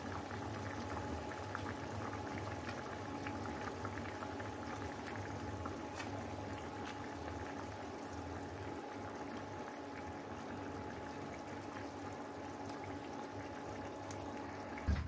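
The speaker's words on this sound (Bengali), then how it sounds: "গরম জলটা ঝোলের জন্য ঢেলে দিলাম" Hot water going into a rohu fish curry gravy gives a steady, soft, low bubbling and watery rush that continues unbroken and fairly quiet, with no talking.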